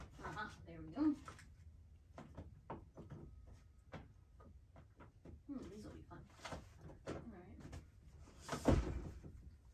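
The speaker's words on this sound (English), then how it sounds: "I'm just looking at my drawers over here." Desk drawers in a home craft space being slid open and shut, giving several short knocks and thumps scattered through about ten seconds, mostly under a person talking.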